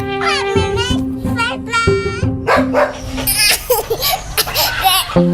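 A dog barks several times amid children's chatter and laughter, the barks standing out clearly near the start over a busy, lively background.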